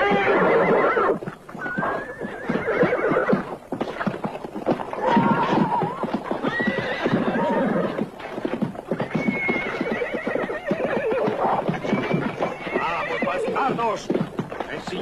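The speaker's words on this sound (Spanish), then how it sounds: "¡Ensillad los caballos!" Horses in a Western chase scene whinny and neigh loudly over continuous clip-clopping hooves, with shouting voices mixed in throughout.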